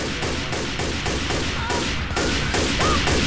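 Rapid automatic gunfire in the video game Left 4 Dead 2, a loud, continuous stream of closely spaced shots with no pauses.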